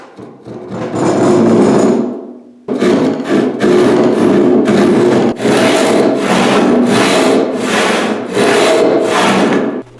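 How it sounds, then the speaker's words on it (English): Rhythmic hand sawing through a section of an old wooden shelf: a steady run of back-and-forth rasping strokes, loud and close, after a brief pause near the start. "it's easier to use this section of an old shelf and saw it in half"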